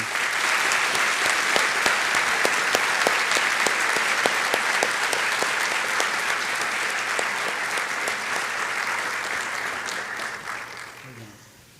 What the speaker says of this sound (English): round of applause for her family.